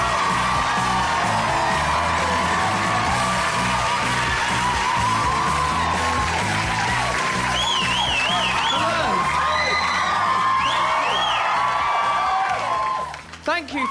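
A live comedy show audience cheers, whoops and claps for the host as he walks on, a dense, sustained roar of crowd noise with yells and applause that holds for most of the stretch before abruptly dropping off.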